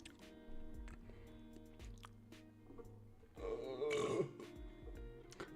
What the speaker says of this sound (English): Excuse me, I had a burp.